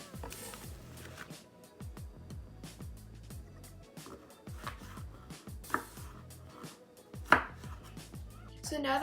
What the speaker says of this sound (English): So now that we've diced our tomatoes,